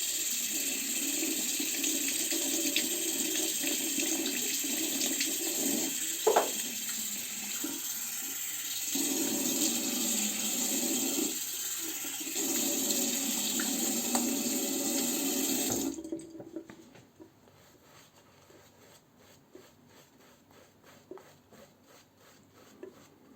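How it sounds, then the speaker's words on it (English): Running tap water splashing into a sink while a face is washed after shaving with a Muhle Rocca R94 razor, a steady close rush with rubbing and splashing that cuts off abruptly, leaving faint drips and handling sounds. "I'll wash my face and go for the second pass."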